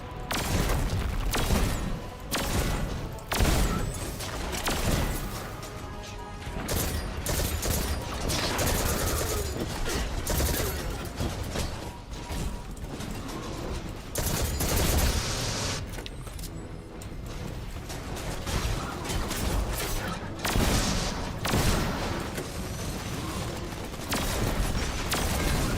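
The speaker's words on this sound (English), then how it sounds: "Who's shooting at me, man? Stop it." Gunfire in a shooter game comes as dense, repeated bursts of shots and booms over about twenty-five seconds, loud and continuous with mechanical clatter mixed into a busy game soundtrack.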